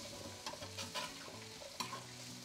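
Carrot and drained potato being stirred and sautéed in a pan while preparing orange pork ribs, soft sizzling with intermittent scraping stirs, quiet and close, no talking.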